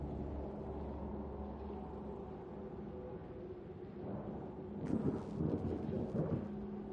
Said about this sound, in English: Not with these storms.